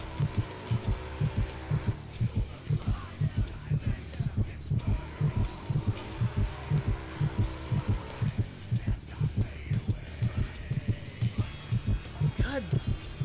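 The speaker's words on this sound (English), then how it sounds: "that heartbeat sounds loud" A video game heartbeat pounds loudly in a steady, even rhythm of deep low thumps, layered over a droning hum of game sound.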